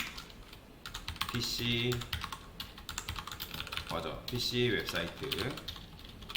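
Computer keyboard typing, with clusters of quick clicking keystrokes in irregular bursts while someone speaks Korean over it, the keys close and fairly clear.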